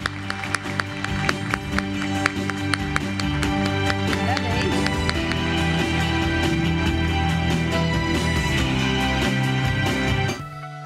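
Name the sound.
audience applause at rice forum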